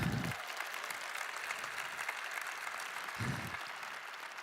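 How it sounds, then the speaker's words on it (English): An audience applauds at a large business keynote conference, steady dense clapping from many hands throughout with a couple of brief low thumps near the start and middle. "Can we clap it up for my homies?"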